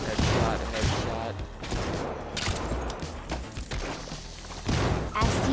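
Rapid gunfire from the VR game In Death: Unchained, with dense bursts of shots and thuds layered over game effects; a voice talks briefly between the shots.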